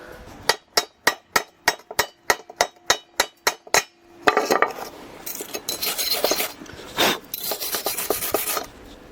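About a dozen sharp, evenly spaced metallic strikes ring out close by, then give way to a longer stretch of scraping and rasping on metal.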